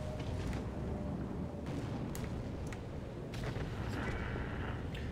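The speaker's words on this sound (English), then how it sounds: "and then artillery takes him out" An artillery shell strikes a tank on the Ensk map in World of Tanks: sharp bursts and booms over a dense, continuous rumble of battle noise, loud throughout with no talking.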